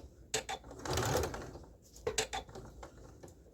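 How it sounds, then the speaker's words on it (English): A sewing machine backstitches at the bottom of a dart in a beginner sewing project, a short burst of motor whir followed by quieter clicks and taps, close and fairly soft. "I'm getting to the bottom of the dart, so I just take my time and then I back stitch"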